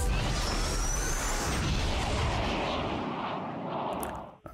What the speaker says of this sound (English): I like a good rocket punch.